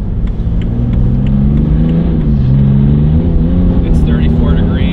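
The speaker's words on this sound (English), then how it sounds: "We'll do a couple quick acceleration so you guys can kind of see and hear what this sounds like." A BMW 335d diesel fitted with an 8-speed gearbox swap pulls away at light throttle in sport mode on cold summer tires, its engine hum climbing and shifting steadily, heard from inside the car at moderate loudness.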